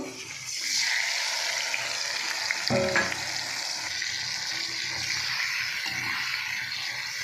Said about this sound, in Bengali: তো বন্ধুরা আমি কড়াইতে তেল দিয়ে দিয়েছি, এবার চিংড়ি মাছটা ভেজে নেব।